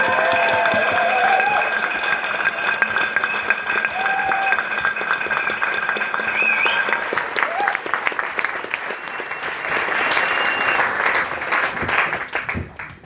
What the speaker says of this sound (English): So I think she probably deserves a round of applause.